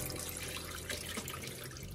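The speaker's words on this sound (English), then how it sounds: "Let it run some cold water." A kitchen tap runs cold water in a steady, dense hiss while callaloo and saltfish are being prepared, with no voices.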